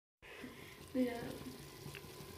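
Spices tempering in hot oil for a tadka give off a soft, continuous sizzle, faint and steady, with one slightly louder swell near the start.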